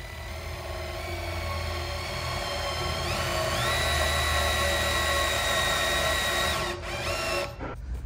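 Power drill boring a pellet hole into moulding on a timber picture frame during glue-up, a steady loud whine rising in pitch partway through, then winding down near the end.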